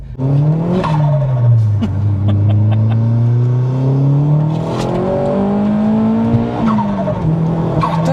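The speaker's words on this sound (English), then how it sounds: "the turbo blow off noise is insane" A Vauxhall Astra VXR with a forged, remapped turbo engine revving hard, loud and close, its pitch repeatedly climbing and dropping as the revs rise and fall, with brief sharp bursts between revs.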